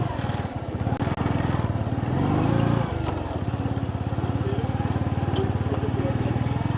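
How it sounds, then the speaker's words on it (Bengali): Motorcycle taxi (boda boda) riding along a village road near Entebbe, Uganda, its engine chugging loud and close in a steady rapid pulse, briefly revving higher, with a voice talking over it at times. "আমি যে বাইকে করে যাচ্ছি এখানে ওরা এটাকে বুড়া বুড়া বলে।"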